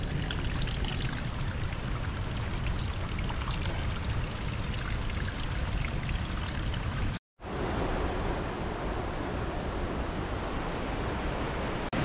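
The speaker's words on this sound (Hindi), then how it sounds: "क्योंकि उधर एक पानी का स्ट्रीम है।" A mountain stream flows steadily on a trek, its dense rushing water filling the scene loudly and continuously, broken only by one brief cut before resuming just as strongly.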